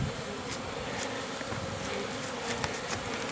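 A steady buzzing drone of many honeybees flying close by, continuous with no voices.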